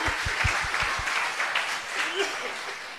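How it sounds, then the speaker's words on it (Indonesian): A church congregation applauds loudly and steadily during a Christian sermon, with a few sharp individual claps standing out at the start and a faint voice underneath. "Tepuk tangan yang semeriah-meriahnya buat Tuhan."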